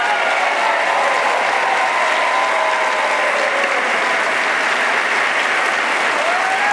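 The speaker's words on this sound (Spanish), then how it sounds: "Un fuerte aplauso, como merece él, al señor Lincoln Díaz Valar." Loud, dense audience applause at a Cuban-American democracy PAC event, a continuous roar of many hands clapping close and strong for the whole stretch, with no break or talk.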